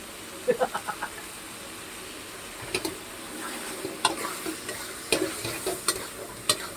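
Luffa gourd and egg stir-fry in a hot pan with a steady close sizzle, broken by sharp spatula taps and scrapes against the pan.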